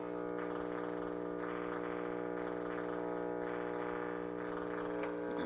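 Steady electronic chiptune music from a Nintendo Famicom game, with sustained buzzy tones and a repeating melodic pattern, continuous and fairly loud throughout.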